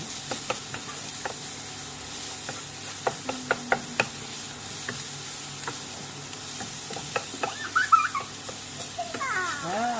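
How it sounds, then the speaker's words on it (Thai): Rice being stir-fried in a pan before it is boiled into Thai rice soup: a spatula scrapes and taps against the pan in irregular strokes over a faint sizzle, with birds chirping nearby near the end. "ข้าวต้มของเราจะเป็นข้าวต้มที่เอามาผัดก่อนนะครับ"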